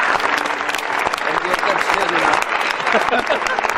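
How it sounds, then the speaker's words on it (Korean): Standing ovation at the Cannes Film Festival after a screening, dense continuous applause from a large crowd filling the hall without pause. "상영이 끝난 뒤에는 칸 영화제의 관례에 따라 기립박수가 이어졌는데요"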